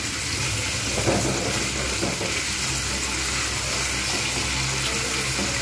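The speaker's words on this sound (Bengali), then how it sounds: "আলু এবং কচু আমি কিন্তু একসঙ্গে ভালো করে ভেজে নেব" Taro and potatoes frying together in hot oil, a continuous dense sizzle with faint stirring, close and steady, no voices.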